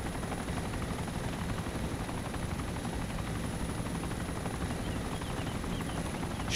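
A helicopter in the Arma 2 DayZ Origins mod plays as a steady, loud rotor drone with a fast chopping pulse, close and continuous throughout, with no voices.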